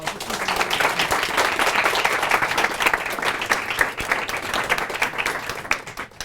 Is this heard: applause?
yes